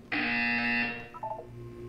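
A loud electronic buzzer in the Portal 2 video game sounds for just under a second, then fades, followed by a few faint short beeps.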